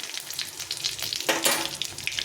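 Dried red chilli and cumin seeds crackle and sizzle steadily in hot oil, with a brief louder burst of spitting partway through; close and continuous, with no voices.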